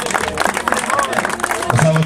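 Crowd applause greets the champion of a mini motocross race, a short burst of clapping over which an announcer keeps talking loudly.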